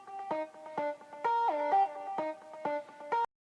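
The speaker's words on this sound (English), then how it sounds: "And the nice thing about this lead is it has the ability to slide." An EDM synth lead glides between overlapping notes, its bright buzzy tone sliding up and down in a short melodic phrase before cutting off abruptly.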